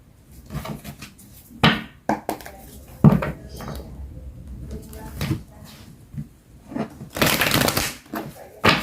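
Tarot cards being shuffled by hand, with bursts of riffling and rustling paper card sounds plus a few soft taps, close and moderately loud, ending in a longer dense riffle.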